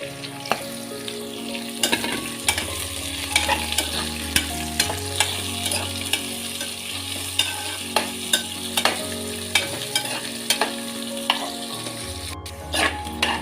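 Sliced big onions sizzling and frying in a pan, with repeated scraping and clinking of a spoon stirring at a steady rhythm.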